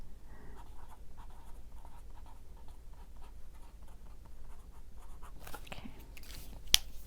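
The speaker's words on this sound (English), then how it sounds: "You just want to see me writing." Paper Mate Flair felt-tip pen writing on paper, faint soft scratchy strokes in short irregular runs, close and quiet, with one sharp tap near the end.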